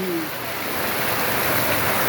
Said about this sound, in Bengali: এরকম ভাবে বৃষ্টি আসতেছে